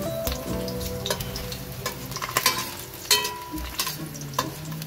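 Garlic frying in a pan for shrimp sinigang, a steady close sizzle broken by sharp clicks and scrapes of stirring, with no voices.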